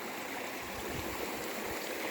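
Steady rushing of a flowing mountain stream in Sürmene, Turkey, continuous and fairly close, with low gurgling water underneath and no voices.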